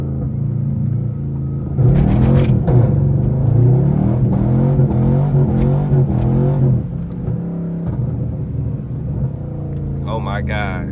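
Straight-piped Pontiac G8 GT launching from a standstill, a loud, deep exhaust rumble swelling as the revs climb and hold for several seconds, with a brief whir near the end and voices in the background.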